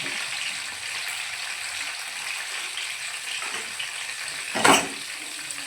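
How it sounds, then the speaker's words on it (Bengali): Two tomatoes fry in a kadai, a bright steady sizzle close by with a brief louder burst of crackling and stirring near the end. "এবার টমেটোটা ভালো করে একটু ভাজা ভাজা করে নেব।"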